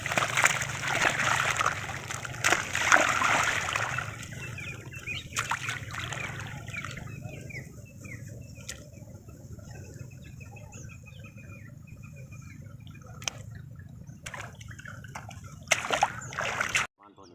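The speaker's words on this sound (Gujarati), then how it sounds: "તો દોસ્તો તમે જોઈ શકો છો પાણી ચાલુ છે" Irrigation water runs into a sesame field on a farm, a gentle trickling and splashing under a louder rushing at the start. Birds chirp and a rooster calls in the background.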